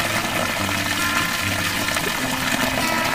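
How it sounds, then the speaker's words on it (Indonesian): Water pours steadily from a spout onto a small modified micro hydro water wheel outdoors, a continuous close splashing rush that holds at an even level throughout. "Nih, airnya jatuh dari sana."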